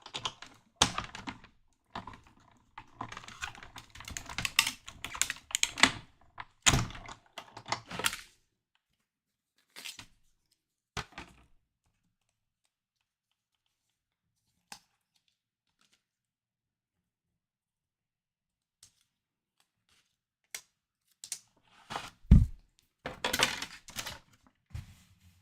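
A manual die cutting machine cranks paper through its plates, giving bursts of close clicking and clattering, then a long quiet gap before another short run of cranking noise.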